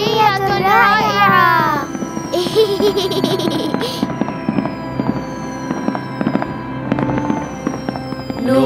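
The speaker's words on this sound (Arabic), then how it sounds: "سبحان الله، ألعاب نارية رائعة." Cartoon fireworks in an Islamic children's animation, loud crackling and popping bursts with whistling rises, mixed with children's laughter and bright voices over a steady musical background.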